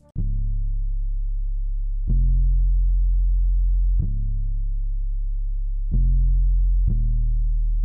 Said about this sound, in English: it's a pretty distorted 808